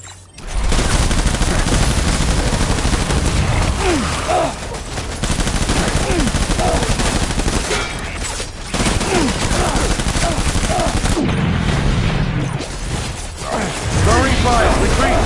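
Rapid bursts of video game gunfire and mechanical clatter fill a continuous loud battle scene, with shouted voices breaking through now and then.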